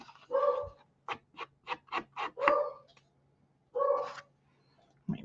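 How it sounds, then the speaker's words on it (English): A small dog barks at home in a quick burst of about six sharp barks, with a couple of longer, louder barks before and after. The barking is close and clear over a low steady hum, with no talk. "I don't know what she's barking at"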